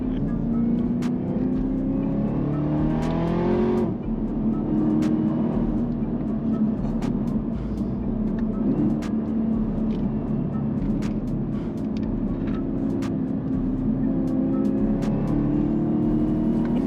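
A Camaro ZL1 is driven hard, its engine droning and revving in rising and falling surges as it accelerates through corners, heard from inside the car with brief clicks and occasional talk over the steady road rumble.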